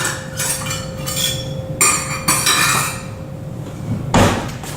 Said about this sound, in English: let me get me my measuring cup